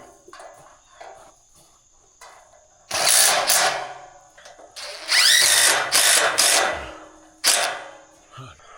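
A power drill driving screws gives several loud whirring bursts of a few seconds each with pauses between, rising and falling in pitch as the screws seat, with a faint steady background hum.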